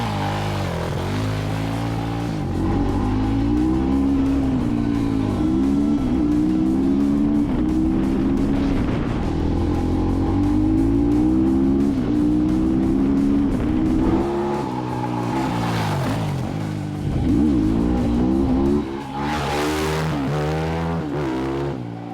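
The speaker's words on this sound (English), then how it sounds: "a Zuma type cross bike with, I don't know, but probably a 450cc engine." A Zuma-type cross motorcycle with roughly a 450cc engine revs loudly and continuously at a motor track, its pitch rising and falling through repeated throttle swells, close and alone.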